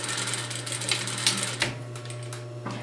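A sewing machine stitches a strap onto a reusable grocery tote bag, running as a steady close mechanical whir with a low hum and a few light clicks, no talking.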